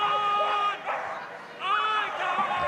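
Dogs barking and yipping at a Crufts flyball semi-final warm-up on an indoor arena surface, several excited barks in quick bursts amid crowd noise, with a commentator talking over them.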